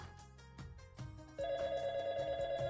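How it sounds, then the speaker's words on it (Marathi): An office desk telephone rings loudly and steadily, its tone starting partway through over a quieter background. "इथे ऑफिसचा फोन वाजतोय."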